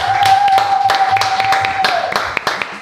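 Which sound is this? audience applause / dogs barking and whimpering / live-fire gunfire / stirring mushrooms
audience applause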